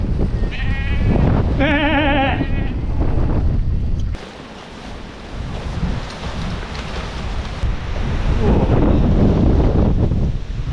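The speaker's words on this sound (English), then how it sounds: "It's windy, wet, and actually no views at all." Strong wind buffets the microphone on exposed Old Winchester Hill in wet weather, a loud rumbling roar that dips briefly midway; a sheep bleats a few times near the start.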